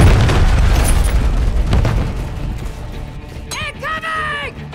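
Cruise missile explosion in Call of Duty Modern Warfare 3 (2023) on the Tokyo map, a loud heavy blast and rumbling aftermath dominating the opening, fading under later chattering game sounds and a pitched electronic warble.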